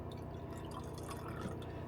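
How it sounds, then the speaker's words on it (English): Water poured into a nearly empty can of tomato sauce gives a faint, steady trickle with small drips, close by and alone for under two seconds. "I'm going to put a little water in there."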